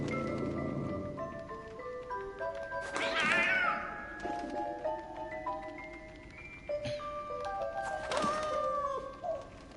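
A cat meows several times in the video game 11-11 Memories Retold, with a strong cry near the start and another later, over a soft ambient game soundtrack with sustained tones.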